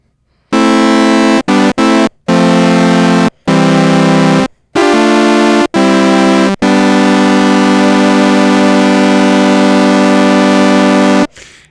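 An Arturia MatrixBrute analog synthesizer in paraphonic mode plays three-note chords, loud sustained brassy tones in a series of short stabs followed by one long held chord, with no talking.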